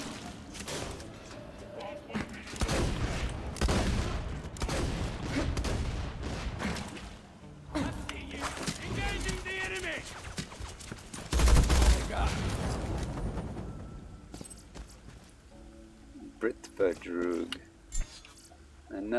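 Gunfire from the video game Borderlands 2 crackles in repeated bursts and volleys throughout, loud and busy, with a player's voice talking over parts of it.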